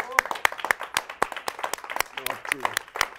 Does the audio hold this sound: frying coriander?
no